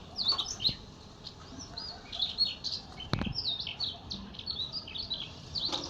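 Several small birds chirp and tweet in the morning open air, quick high calls scattered throughout at moderate distance, with a brief thump partway through.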